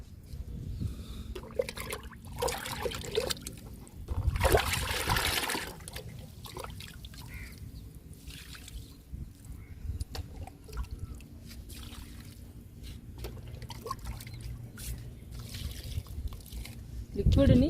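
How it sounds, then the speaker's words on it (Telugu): Liquid fertilizer is poured from a container onto bean, tomato and eggplant plants in a vegetable garden, with intermittent splashing and trickling, a louder burst of pouring near the start, and talk in between. "ఇంకా వంగ మొక్కలకి టమాటా మొక్కలకి ఇచ్చేద్దాము లిక్విడ్ని"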